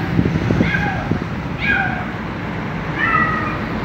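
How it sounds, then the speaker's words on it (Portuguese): A female cat in heat yowls in three drawn-out, wavering cries spaced a second or so apart, fairly close and loud, with a low rumbling background in a car workshop. "A gata tá no cio, parece que ela tá latindo."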